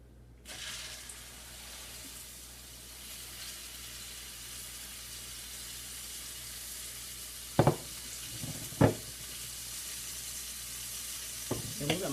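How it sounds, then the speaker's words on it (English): Pork roast sizzling in hot oil, a steady loud frying hiss that starts abruptly and continues throughout, with a few sharp clinks and taps near the end. "So we're going to go ahead and put this baby in the oil."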